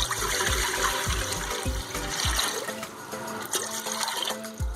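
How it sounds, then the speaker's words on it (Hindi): Two glasses of water poured into a cooking pot sitting on a village stove for a potato and egg curry, a steady close splashing gush that runs for a few seconds and then settles into lighter trickling. "2 गिलास पानी शामिल किया।"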